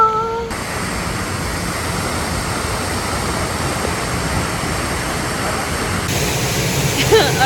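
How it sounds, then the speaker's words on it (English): A waterfall in St. Lucia, running heavier after rain, roars as a steady broadband rush close by, unbroken for the whole stretch with a slight swell near the end. "I'm sure you guys can hear the waterfall"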